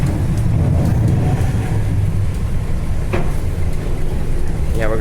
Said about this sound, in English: watch the train depart for the last time